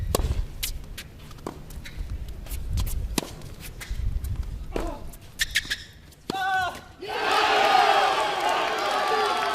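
Crowd at an NCAA Division II men's tennis team final breaks into loud, sustained cheering and applause in the last few seconds, following quieter stretches with scattered voices and footfalls.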